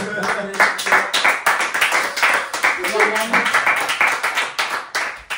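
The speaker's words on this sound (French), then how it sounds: "Mesdames et messieurs, s'il vous plaît, un grand applaudissement pour Omar." An audience claps for a guest at a French-language show, loud, dense clapping with a rhythmic, pulsing beat that holds steady from start to finish, with voices mixed in.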